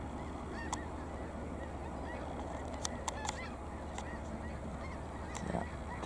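Snow geese over a field in Alberta give faint, scattered honks and calls from a distant flock, rising over a steady outdoor background with no one talking.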